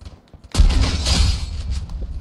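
Gunfire in the battle royale game Free Fire erupts after a brief quiet moment, a loud close burst of booming shots that rumbles on and slowly fades, with no talking over it.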